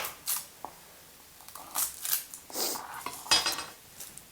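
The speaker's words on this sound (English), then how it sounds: "using your knife, again, trying to keep it in contact with the board, chopping off the top and bottom of your garlic" A knife chopping the tops and bottoms off garlic cloves on a cutting board, giving a few sparse, sharp taps and scrapes at uneven intervals, close and fairly quiet with no talk.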